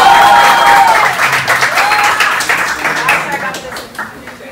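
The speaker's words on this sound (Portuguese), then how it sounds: "Aplauso, galera" Audience applause at a jiu-jitsu academy awards ceremony, loud and dense from the start and thinning slightly toward the end, with whoops and a voice calling out over the clapping.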